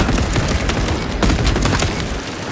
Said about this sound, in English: Throwing fragmentation grenade.